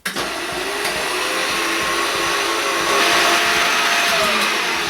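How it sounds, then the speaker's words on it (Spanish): An electric mixer runs at low speed, beating eggs with sugar for a sponge cake, giving a steady, continuous motor whir with a slight lift in intensity partway through. No one speaks over it. "Y procedemos a batir primero en marcha lenta."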